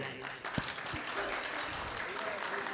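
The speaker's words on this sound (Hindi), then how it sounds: "अरे तुमने अपने भी ताली बजा ली।" Applause from a group at a devotional chanting training camp, clapping heard alongside voices, fairly close and moderately loud.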